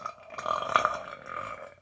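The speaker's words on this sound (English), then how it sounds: "that burp sounded like it came out of my ass" A single drawn-out human burp, close and fairly loud, with a rough voiced rumble lasting nearly two seconds and swelling in the middle before fading.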